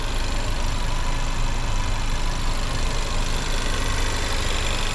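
A 2019 Nissan Rogue Sport S AWD engine idling, a steady, even, loud engine hum heard up close with no variation and no voices.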